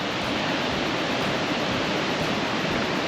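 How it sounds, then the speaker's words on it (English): Ocean surf on a rocky coastline, waves pounding and washing up over smooth rocks, heard as a steady, moderately loud roaring wash with no voices. "the waves just pounding it and flowing up over the top"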